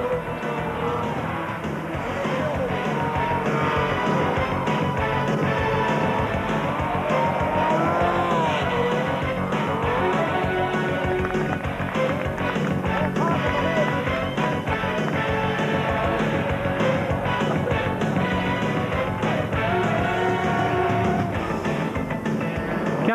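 Rallycross race cars at a 1997 French championship event drive at a steady, loud roar, with engines droning continuously and tires occasionally squealing, the sound dense and sustained throughout.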